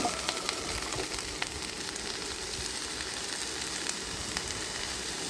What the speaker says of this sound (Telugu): మీకు నచ్చిన కూరగాయలన్నీ వేసుకున్న తర్వాత ఇది ఒక 2 to 5 minutes వరకు జస్ట్ సాటే చేసుకోవాలండి.